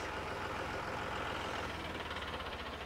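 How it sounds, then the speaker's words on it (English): Engine of a beach sand-cleaning tractor at a lakeside park runs steadily, a loud continuous low diesel drone with a constant rumble and no pauses. "let me see if I can get the guy to start the tractor up"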